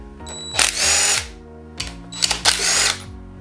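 A power tool, likely an impact or drill driver, backs the front cover bolts out of a 3800 L67 engine in two close, loud whirring bursts, each with a ratcheting rattle.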